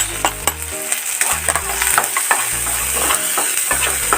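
Red onions sizzle steadily in a hot pan after garlic has browned, with a utensil stirring and scraping through them in repeated close strokes while the frying hiss continues underneath.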